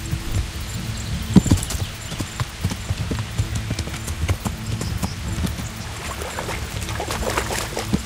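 Horse hooves clip-clop in a steady, rhythmic trot in the medieval game Kingdom Come: Deliverance, the close, crisp hoofbeats continuing throughout over a faint low hum.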